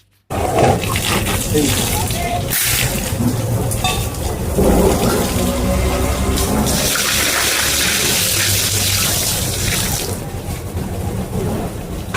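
Running tap water splashes steadily across a home doorstep for a sustained wash, loud and close with a continuous gushing hiss and brief shifts in flow.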